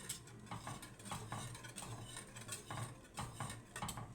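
A spoon scrapes and clinks against a pot of rice pudding in a repeated stirring rhythm, soft and close, with a faint low bubbling underneath.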